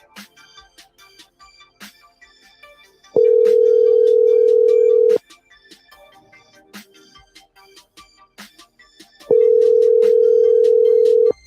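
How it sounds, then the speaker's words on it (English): A phone ring tone sounds twice, each a steady electronic buzz about two seconds long, loud and close, with faint background noise between. "Make sure we get this phone ringing up here."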